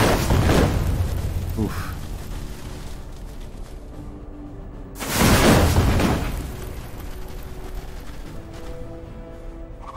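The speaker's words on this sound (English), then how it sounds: "They could be panicked by the fireworks." Fireworks bursting in the fantasy strategy game Age of Wonders 3, two heavy booming blasts several seconds apart, loud and close, with someone talking briefly between them.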